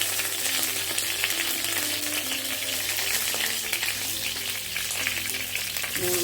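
Curry leaves frying in hot oil with spices for an egg gravy, a steady crackling sizzle that holds close and fairly loud throughout, with no talk.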